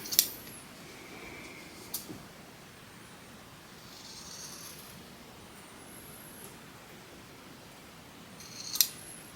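Scissors trim fabric darts on a sewing project in a few quiet, separate snips. There are two crisp cuts near the start and another near the end, with soft rustling between them.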